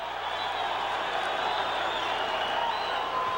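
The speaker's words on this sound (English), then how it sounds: "Crowd likes it." Boxing arena crowd at Sugar Ray Leonard versus Dick Ecklund breaking into applause and cheering, a continuous moderate roar with whistles and shouts carried at some distance.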